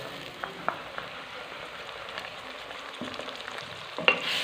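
Steady sizzling of ginger-garlic paste frying in hot oil, with occasional stirring clinks and a sharper scrape near the end.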